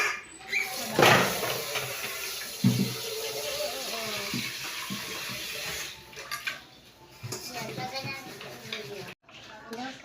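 Running water splashes in a sink as dishes are washed during Saturday cleaning, with intermittent clatter and bursts of flow under nearby talking and children's voices.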